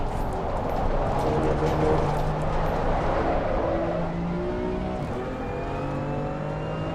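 Race car engine in Assetto Corsa Competizione during hot laps, a steady loud drone with rising and falling pitch sweeps as the car accelerates and shifts, continuous throughout with no talk.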